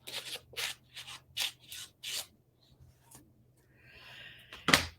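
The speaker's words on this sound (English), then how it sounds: "But let me cut this jaggedy edge off." Scissors snip a jagged edge off a strip of washi tape in several quick, crisp cuts, evenly spaced and close up, followed by a soft rustle and a sharp final snap.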